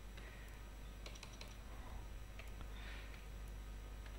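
Faint, sparse taps on a computer keyboard while typing a document in MS Word, scattered keystrokes over a steady low hum, quiet and without speech.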